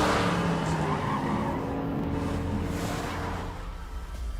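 A car engine roars close by while tires squeal and skid through most of the stretch, fading slightly toward the end.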